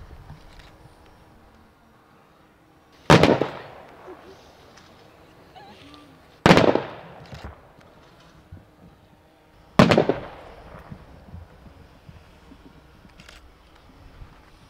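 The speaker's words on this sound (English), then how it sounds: "Off in the distance, we hear the sound of a 7-gun volley" A seven-gun rifle volley fired in the distance at a military funeral ceremony: three sharp, evenly spaced cracks about three seconds apart, each trailing a short echo over quiet outdoor ambience.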